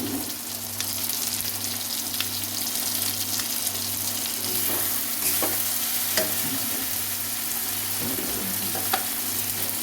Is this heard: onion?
yes